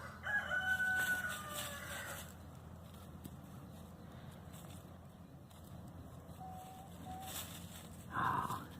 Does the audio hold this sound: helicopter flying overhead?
no